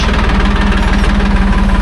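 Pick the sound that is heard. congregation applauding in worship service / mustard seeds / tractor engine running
tractor engine running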